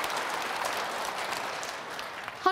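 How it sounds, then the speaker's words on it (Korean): An audience in a Korean Catholic lecture setting applauds after a hymn, a steady wash of many hands clapping at moderate volume that fades slightly toward the end. "박수 한번 쳐야지"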